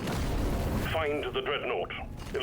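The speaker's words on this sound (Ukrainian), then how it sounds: "стартова зброя у нього швидкострільна зброя, яка веде стрільбу позаду вас" Rapid-fire starting weapon shooting in the video game Deep Rock Galactic: Survivor: a dense, noisy burst of gunfire fills the first second, then a voice talks over quieter game sounds.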